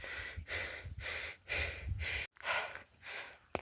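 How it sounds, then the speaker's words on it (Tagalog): Heavy, rhythmic panting from a cyclist after an uphill ride, with about six deep breaths in quick succession, close and fairly quiet, each one a hoarse rush of air. "Grabe hingal."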